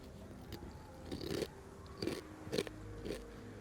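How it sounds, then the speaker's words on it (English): Loud, close chewing of food, with several crunchy bites in an irregular rhythm over a quiet background and no talking. "I'm probably chewing really loud."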